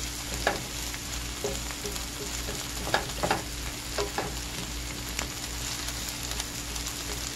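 Onions fry in a pan with ghee and avocado oil, a steady close sizzle with occasional soft stirring clicks and scrapes, no talking.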